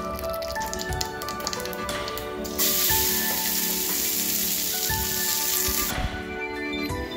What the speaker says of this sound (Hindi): गर्म करने को रखा पैन में, राई डाला